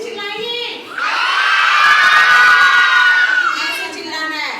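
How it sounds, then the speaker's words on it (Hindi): A group of schoolchildren in a classroom shout loudly together in one sustained, swelling cry lasting about three seconds, preceded and followed by quieter chatter. "जोर से चिल्लाना है।"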